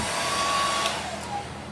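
A hair dryer blows steadily at close range, drying paint on miniature Warhammer 40k bases, a constant loud whooshing whine with no talk.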